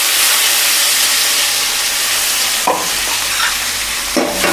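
Ginger and garlic sauté loudly in oil already holding mustard seeds, urad dal, fennel, cinnamon and cloves, giving a dense close sizzle. Two brief scraping stirs break through it.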